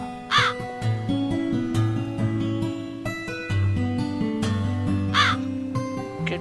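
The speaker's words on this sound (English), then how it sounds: "Oh, it's the crow again." A crow in the horror adventure game The Cat Lady gives two harsh, loud caws a few seconds apart over sustained, moody background music.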